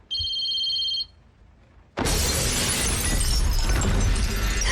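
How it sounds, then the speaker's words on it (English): A phone rings with a steady electronic tone for about a second, then after a short pause a loud, harsh, broadband crash bursts in and sustains to the end. "Her phone is ringing"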